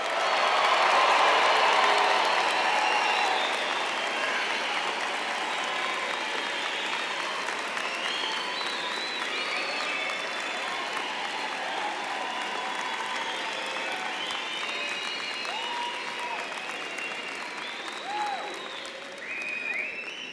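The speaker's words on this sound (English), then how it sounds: "get ready to clap, cheer, shout, and make as much noise as you can" Large stadium crowd at a university fall commencement ceremony clapping, cheering and shouting at once, loudest at the start then settling into a sustained roar with whoops and whistles scattered through.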